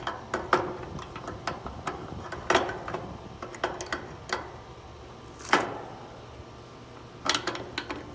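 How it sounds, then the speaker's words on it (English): A crescent wrench snugs a fitting on an HVAC unit with scattered metallic clicks and clanks, some sharper and louder than others, spaced irregularly and close by. "take a crescent wrench and just, give it a snug"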